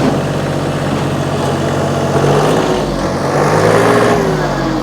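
A 2022 John Deere 3033R compact tractor's diesel engine runs on auto throttle, a steady close rumbling drone whose pitch swells gently upward midway, with no voices.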